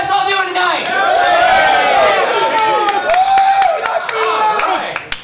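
A large crowd at an evening political rally cheers and whoops loudly and continuously, a dense wall of voices rising and falling with a few scattered claps.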